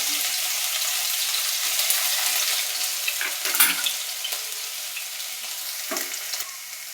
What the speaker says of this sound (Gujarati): ક્રશ કરેલું આપણે લસણ નાખશું.